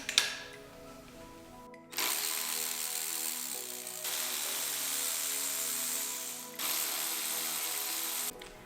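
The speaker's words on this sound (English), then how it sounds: "So I'm just gonna be going in with my electric ratchet." A cordless electric ratchet spins loose Honda B16 cylinder head bolts in a series of close, steady whirring bursts of about two to three seconds each, separated by brief pauses, with no talk.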